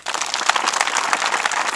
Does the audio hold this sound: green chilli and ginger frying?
no